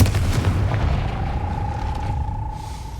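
A fiery Confringo blast spell in a Harry Potter video game goes off near the start with a heavy, rumbling boom, then fades into a lingering low roar and a thin sustained tone.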